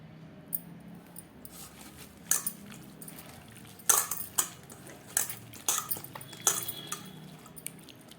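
Hand mixing red chilli recipe ingredients in a bowl: soft, wet squelches and light clicks at an irregular pace, close and fairly quiet, with no talk.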